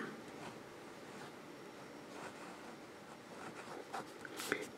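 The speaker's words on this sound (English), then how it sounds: "let's get to writing and see how this pen operates" Pilot Falcon fountain pen nib scratching across paper in soft, continuous strokes with light rustles and a few sharper ticks near the end, close and quiet.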